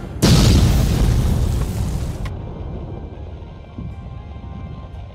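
A Minecraft weapon firing followed by a big explosion, a sudden loud boom that rumbles and slowly fades over several seconds, with a sharp crack partway through and a smaller thump near the end.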